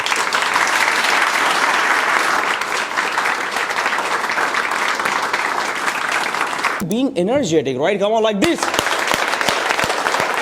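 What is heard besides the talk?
clapping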